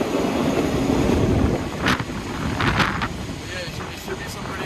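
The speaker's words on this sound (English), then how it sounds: "So another train going by next to us." A train in Thailand rumbles past close by on the next track, a broad roaring wash of noise with a few sharp rattling bursts as it goes by.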